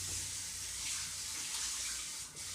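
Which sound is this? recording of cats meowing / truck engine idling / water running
water running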